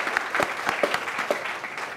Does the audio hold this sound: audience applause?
yes